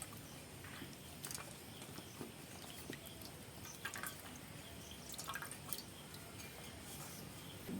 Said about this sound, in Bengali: আমি আর একবার ধুয়ে নেব।